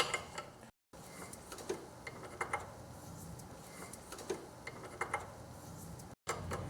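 A 19mm wrench works loose a bolt on a Subaru power steering pump, heard as quiet, close metallic ratchet clicks and taps spread irregularly through the clip, with two short dropouts.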